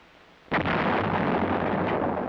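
A self-propelled 105mm howitzer fires a single round, a sudden heavy blast that breaks out of quiet and rolls on as a loud sustained roar and rumble.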